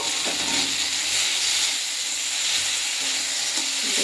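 A spice paste of tomato, onion, ginger and garlic fries in a pan with a steady, close sizzle and hiss, broken by occasional soft stirring scrapes, and no voices.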